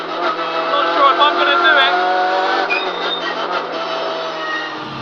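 Hyundai i30 N race car on a track, its engine loud and close with revs rising and falling through a corner, under the driver's talking.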